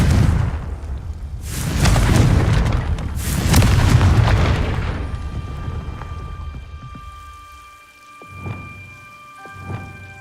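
Confringo fire spells burst in Hogwarts Legacy as two heavy, crackling booms, each rumbling off for a couple of seconds, followed by two smaller, sharper blasts.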